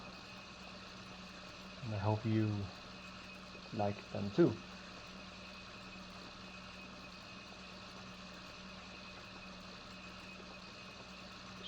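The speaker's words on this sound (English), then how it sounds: "we just did this to try out the tractors and hear the sounds of it" A tractor in the video game Farming Simulator 2019 idles with a steady, faint low hum that runs unchanged throughout, while someone speaks briefly over it in two short bursts.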